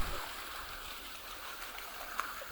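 The Wada River in Japan flows with a steady, broad rushing wash that holds even throughout, with one brief faint tick near the end and no voices.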